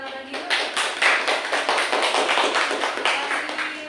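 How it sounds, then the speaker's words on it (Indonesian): A class of students claps for two classmates after their presentation, a dense patter of hand claps filling the room at moderate volume and running steadily throughout. "Oke, kita kasih tepuk tangan lagi yuk."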